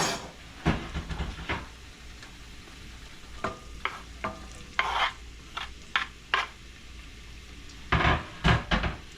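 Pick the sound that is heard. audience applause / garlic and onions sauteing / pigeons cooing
garlic and onions sauteing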